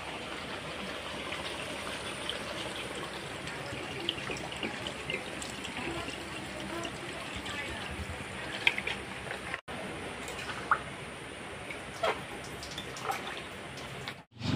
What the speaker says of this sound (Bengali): আমার মাংস কষানো হয়ে গেছে, এখন আমি জল দিয়ে দেবো।